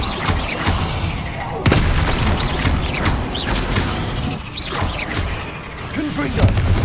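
Bombarda blasting spells burst repeatedly in a Hogwarts video game, heavy booms and thuds piling onto a dense, clattering battle mix that keeps going for the whole stretch, with a voice briefly talking over the din.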